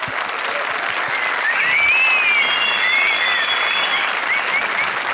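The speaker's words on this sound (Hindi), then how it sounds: "जोरदार तालियां हमारी सारी सुरक्षित जोड़ियों के लिए" A studio audience claps loudly and continuously in a sustained wash of applause, with whistles rising above it, close and full throughout.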